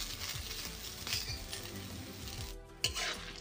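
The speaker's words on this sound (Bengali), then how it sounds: "দেখো বন্ধুরা, এটা আমার ভাজা হয়ে এসেছে" Mixed vegetables frying in a pan, a constant close sizzle with faint clinks of a utensil against the pan and a short dip near the end.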